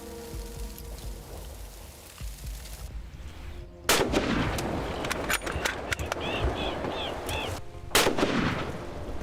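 A sudden loud gunshot blast outdoors during a crocodile hunt, followed a few seconds later by a second sharp report, over a rough background of rustling, splashing and wind, with brief bird chirps between.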